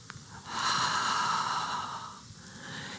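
A deep, slow inhale through the nose during a core breathing exercise, a close, airy rush of breath that swells and holds for about a second and a half before fading.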